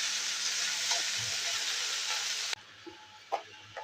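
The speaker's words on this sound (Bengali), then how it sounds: "এটা 5 মিনিট ধরে ভাজা হয়ে গেছে।" Mixed winter vegetables and greens stalks frying in a pan for a vegetarian chorchori, giving a steady moderate sizzle that cuts off sharply partway, followed by quieter clinks and stirring sounds.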